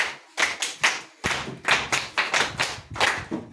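A group of children clap for a boy named John at a community library early childhood session, several bursts of brisk, uneven applause with short pauses between them, close and fairly loud.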